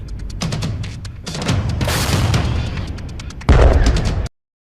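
Artillery guns fire during the Russia-Ukraine war, a series of loud, sharp booms with rumbling tails, the last blast heaviest and closest before the sound cuts off abruptly.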